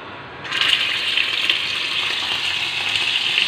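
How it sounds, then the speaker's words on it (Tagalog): Beef sizzles in a heated pan with an oil blend that includes olive oil. A steady, fairly loud hiss starts after a brief quiet moment and holds evenly to the end, with no voices. "Lutuhin muna natin ng konti ang beef."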